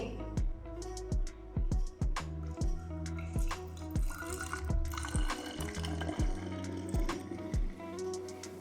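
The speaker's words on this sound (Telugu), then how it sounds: "ఇప్పుడు ఈ వాటర్ని మనం స్ప్రే స్ప్రే బాటిల్లో అయితే వేసేసుకుందాం" Soapy water made from leftover soap pieces poured into a plastic spray bottle, a bubbling, gurgling fill interrupted by repeated sharp knocks and clatters, close up and fairly quiet.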